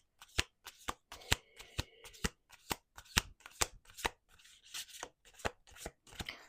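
Tarot cards are shuffled in quick bursts of crisp riffling snaps, one after another in an uneven rhythm, close and fairly quiet.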